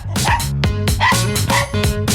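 A robot toy dog barks loudly and close in a rapid string of about five or six electronic yips with whimpering tones in between.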